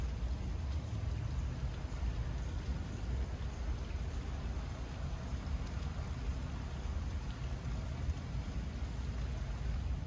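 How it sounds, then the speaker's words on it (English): Light drizzling rain falling steadily outdoors, a soft continuous hiss and patter that stays even throughout with no voices. "It's drizzling all day."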